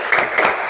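Two quick claps from a group keeping time to a children's clapping song, each a short, fairly loud burst of hands about a quarter second apart, with faint voices in the background.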